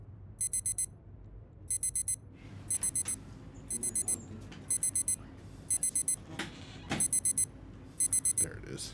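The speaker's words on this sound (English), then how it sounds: "Okay, alarm is off." A repeating electronic alarm rings in the video game Obsideo, sounding in regular short bursts of rapid beeps about once a second over a low ambient hum, with faint background noises between bursts.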